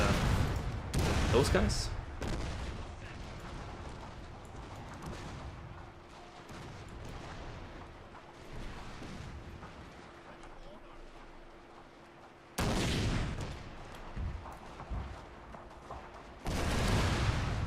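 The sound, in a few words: artillery and gunfire in video game Total War: Fall of the Samurai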